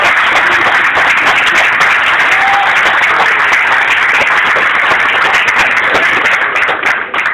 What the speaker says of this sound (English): So everybody, we can give a big round of applause to Brother Bill.